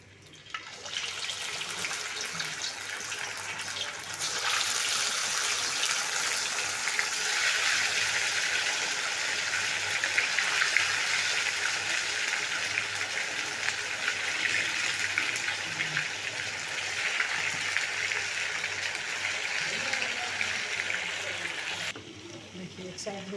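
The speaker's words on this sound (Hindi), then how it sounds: "अब इसमें फ्राई करने के लिए डालेंगे।" Chicken tikka pieces fry in hot oil for Indian-style chicken tikka, a steady loud sizzle that starts a few seconds in and runs unbroken for about eighteen seconds before cutting off.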